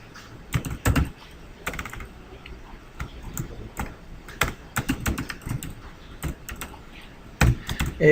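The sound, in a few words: typing on computer keyboard, pressing Ctrl+Space and Enter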